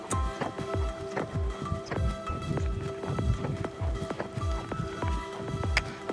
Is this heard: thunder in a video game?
no